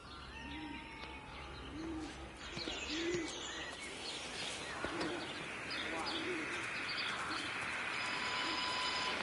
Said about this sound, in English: I look to my birds, Father.